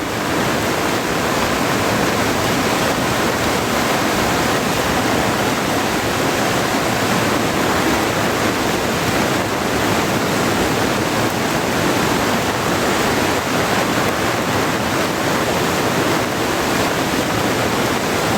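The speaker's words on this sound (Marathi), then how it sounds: "ते पाणी पण भरपूर वाढत चाललंय आता" Floodwater rushes through a swollen river in the Konkan during heavy rain, a loud, unbroken roar of churning water and downpour filling the whole stretch with no voices.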